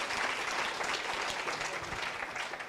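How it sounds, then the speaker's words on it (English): Conference audience at a mental wellness event breaks into steady, dense applause, a continuous wash of many hands clapping at moderate volume with no talk over it. "A round of applause for Daktari."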